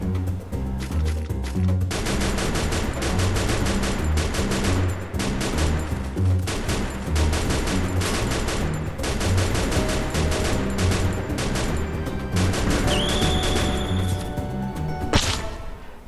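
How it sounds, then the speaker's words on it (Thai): Loud, close M60 machine gun fire in a shooter video game, long rapid bursts with brief pauses between them, ending in a final sharp crack and a rising whine. "M60 นั่งยิงแล้วมันจะเข้าโหมดปืนกลไงมันจะยิงได้ ลั่นกว่าปกติ"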